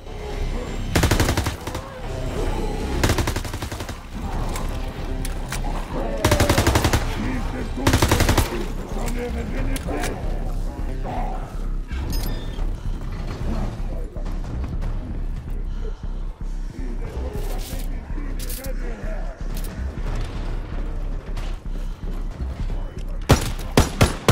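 Sustained gunfire in Call of Duty: WWII, dense bursts of automatic and rapid shots nearly continuous over twenty-odd seconds, loud and close, with game effects mixed in and occasional talk over it.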